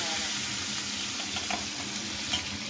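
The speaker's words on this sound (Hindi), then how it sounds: "ये जीरा मैं सरसों के तेल में बनाती, जीरा डाल दिया मैंने।" Cumin seeds frying in mustard oil in a wok, a steady close sizzle with faint crackles and a light stir, no talking over it.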